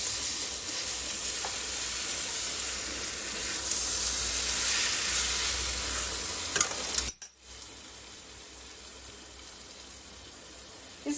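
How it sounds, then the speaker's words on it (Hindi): Jackfruit sabzi sizzling steadily in a pan, close and loud, with stirring scrapes and clatter, then a sudden drop to a quieter, softer fry after a brief break. "तब तक इधर सब्जी चला देती हूँ।"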